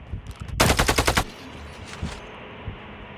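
Rapid automatic gunfire from a video game, a burst of about a dozen sharp shots fired in quick rhythm, loud and close, followed by a few scattered single shots and quieter game sounds.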